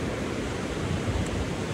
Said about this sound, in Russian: Эти волны тому подтверждение